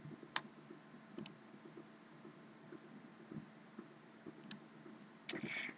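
Sparse key clicks on a computer keyboard during an Ubuntu Server install, several short, light taps spread out over a faint steady hum.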